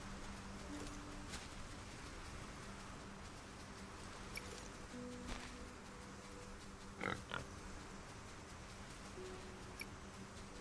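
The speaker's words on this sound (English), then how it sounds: "Look, it's a pig." A pig oinks in the Solarpunk video game, a couple of brief grunts near the middle over a steady hum of ambient game music and background sound.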